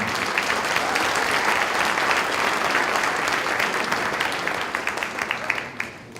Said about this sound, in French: Claude et Jacqueline Sauvage, on peut les applaudir, Claude et Jacqueline.